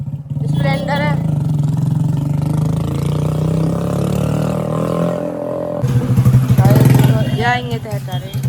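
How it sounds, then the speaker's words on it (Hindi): A Hero Splendor motorcycle engine runs with a steady low hum and slight rises in pitch, close by and largely under people talking loudly throughout. "मोटरसाइकिल है"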